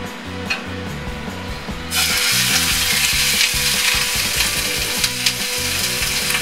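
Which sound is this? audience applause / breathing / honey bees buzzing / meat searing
meat searing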